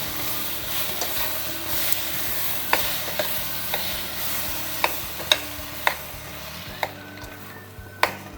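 Soya chunks and ground spinach paste are stirred in a frying pan, a soft continuous sizzle running under repeated sharp clinks of a spoon against the pan's side.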